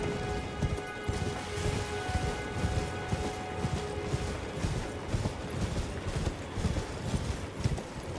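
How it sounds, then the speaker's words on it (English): A horse gallops in Elden Ring, its hooves thudding in a steady, rapid clip-clop rhythm over a constant low ambient rumble and faint tonal hum, with no talk. "Get on our horse here."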